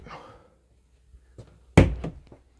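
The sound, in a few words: door closing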